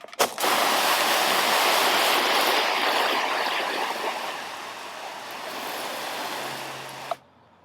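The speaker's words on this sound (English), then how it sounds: "Give them a good soaking of water." Water pours steadily onto a seed tray of freshly started seeds, a continuous close splashing wash that runs for about seven seconds before stopping abruptly.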